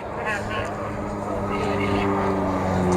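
A T-17 (MFI-17) light propeller aircraft flies a solo display at an air show, its steady engine drone loud and continuous with a slowly shifting pitch, while a commentator speaks over it.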